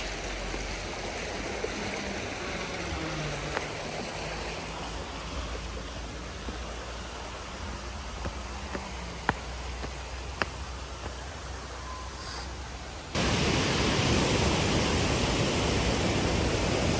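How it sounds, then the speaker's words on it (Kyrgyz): River water flowing in a natural outdoor spot, a steady hiss of rushing current with faint occasional clicks, growing noticeably louder and closer near the end. "Көкмөк сонун башкача суу агат экен."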